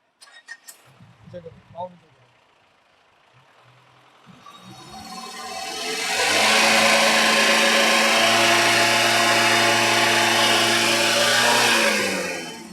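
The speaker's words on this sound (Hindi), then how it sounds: "गाड़ी स्टार्ट करो।" A truck engine turns over and revs up to a loud sustained roar, preceded by a few clanks and people talking at a roadside smog check.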